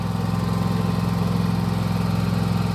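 A Skag commercial lawn mower engine runs steadily at close range, giving a loud, even, pulsing drone with a low rhythmic throb and no talk.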